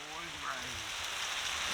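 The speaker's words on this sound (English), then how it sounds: "It always rains when we go camping now" Steady rain patters on a tarp at a canoe wild camp, a soft continuous hiss with a faint voice briefly underneath.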